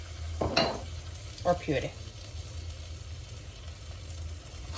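Flour roux cooks off in a pan with Dijon mustard and garlic paste added, a soft steady sizzle close by with a few stirring scrapes and a brief spoken phrase near the start.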